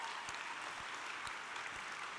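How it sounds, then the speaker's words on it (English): Continuous audience applause for contestants at the Miss Anaheim 2016 pageant, a steady wash of clapping from a crowd at moderate distance, with a few sharper claps standing out. "Let's give them all a round of applause"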